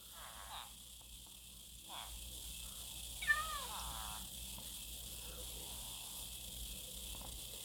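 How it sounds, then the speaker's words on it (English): A Minecraft cat gives faint, scattered mews and a brief hissy chirp, a few short soft calls spread over a quiet, hushed backdrop. "This cat is crazy. He just wants to go up and down."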